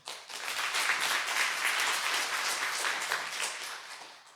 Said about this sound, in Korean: 박수 좀 부지게 한번 칩시다.